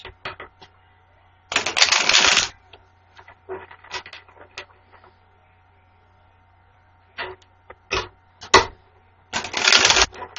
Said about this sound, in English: I'm going to shuffle the card 3 times.